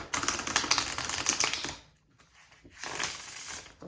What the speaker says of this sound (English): let's see how these riffle shuffle on camera